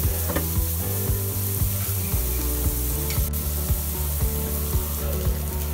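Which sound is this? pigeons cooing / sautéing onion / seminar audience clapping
sautéing onion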